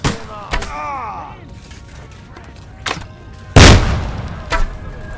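Battle gunfire in Kingdom Come: Deliverance II, a few separate sharp shots scattered over several seconds, one especially loud and close, with voices calling out between them.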